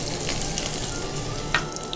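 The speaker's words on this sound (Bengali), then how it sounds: "এখন এর মধ্যে দিয়ে দিব আদা আর রসুন কুচি" Chopped ginger and garlic frying in a tablespoon of hot oil, a steady close sizzle with soft crackles and one brief sharper pop, no voices.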